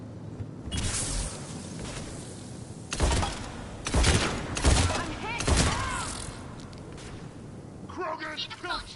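Video game gunfire and impacts from Mass Effect, several loud bursts of shots and blasts spaced a second or so apart, mixed with talk.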